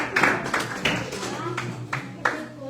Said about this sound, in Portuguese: As palmas bem alegres ao Senhor Jesus.